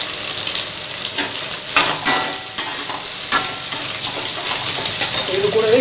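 Two medium onions, sliced lengthwise for street-style chicken fried rice, sizzle loudly in a hot pan, with repeated metal scrapes and clanks from stirring over a constant frying hiss.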